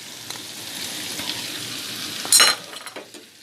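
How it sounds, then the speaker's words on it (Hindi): Butter and whole spices added to mixed lentil dal give a continuous soft sizzle, with a brief metallic clatter of a utensil near the end and no voices. "अब मैं इसके अंदर मक्खन ऐड कर दूँगी। ये मक्खन का अपना ही एक टेस्ट है।"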